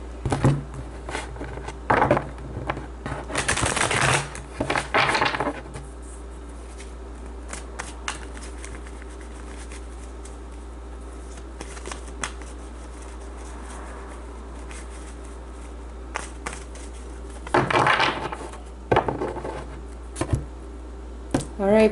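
Tarot cards shuffled in bursts of riffling and crisp flicking, close to the microphone, separated by quieter stretches with faint handling and a bit of speech.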